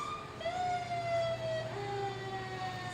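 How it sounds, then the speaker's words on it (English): Wailing fire truck sirens at a Christmas event with the Blair Fire Department, rising and falling tones sustained throughout, fairly close and loud over a low engine rumble, with no talk. "The kids love the fire trucks. They love the sirens."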